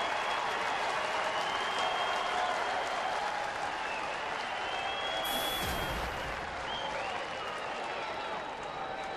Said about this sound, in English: But the fans who are here, another standing ovation for Torrey Hunter.